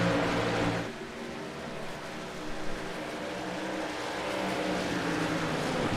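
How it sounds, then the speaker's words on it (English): Engines of race trucks roar back under green at Homestead Miami Speedway in a racing video game, a loud buzzing drone that dips briefly and then builds steadily as they accelerate. "the 87 is back on the loud pedal as we're back under green here at Homestead Miami Speedway"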